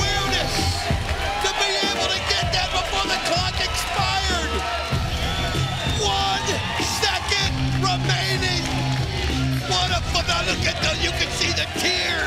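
A Bound for Glory 2005 wrestling arena crowd stands and cheers, a steady, dense roar of yells and crowd noise with a commentator talking over it.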